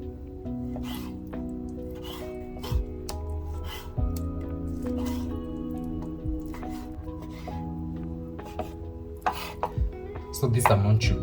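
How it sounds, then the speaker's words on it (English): Raw chicken breast is chopped on a board in a home kitchen, with irregular knife taps and soft squishy cuts set against a steady background hum, ending in a quick flurry of strokes. "I can start chopping my chicken breast"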